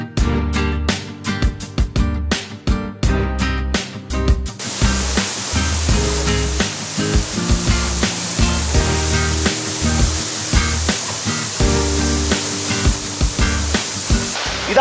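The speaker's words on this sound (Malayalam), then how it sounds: "ഇതാണ് ആ മനോഹര പാമ്പനാൽ വെള്ളച്ചാട്ടം." Pampanal waterfall on the Pala–Thodupuzha route in Kerala roars as a loud, continuous rush of falling water, with music playing over it throughout.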